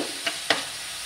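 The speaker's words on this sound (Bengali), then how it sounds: "পেঁয়াজটাকে আমি সুন্দর করে ভাজা ভাজা করে নেবো বন্ধুরা" Onions sizzle in a hot pan of oil, a steady frying hiss broken by two brief stirring scrapes, close and without talk.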